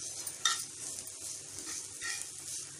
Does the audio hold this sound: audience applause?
no